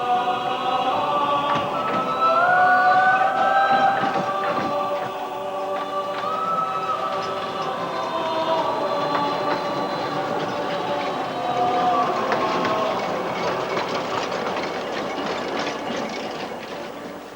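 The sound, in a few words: Hunslet Alice locomotive on the Leighton Buzzard Light Railway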